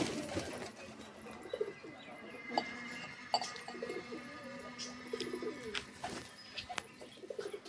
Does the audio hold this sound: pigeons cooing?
yes